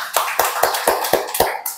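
Six or seven sharp hand claps in a steady rhythm, close by, spaced about a quarter second apart, with no talking.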